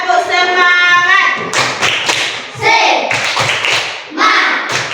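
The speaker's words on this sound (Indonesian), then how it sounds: "Untuk semangat pagi ini dulu, tepuk semangat." A primary school class doing a rhythmic spirit clap led by the teacher, with children's voices chanting in sung tones between bursts of sharp patterned claps and thumps, loud and close.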